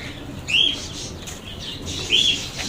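Racing pigeons, homing birds in a loft, give two short bursts of chirping and wing flutter over a steady background hiss, with no one talking.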